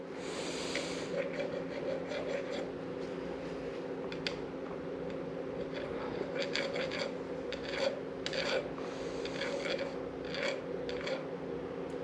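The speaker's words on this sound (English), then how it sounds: "all I'm doing is taking the little burrs off of it from where it hit the concrete" Hand file scraping burrs off a coilover shock part, steady repeated rasping strokes over a constant low hum, fairly faint and close.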